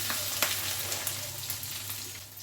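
Spices crackle and sizzle as they temper in hot oil on a low gas flame close up, a steady frying hiss with small pops, under a low hum.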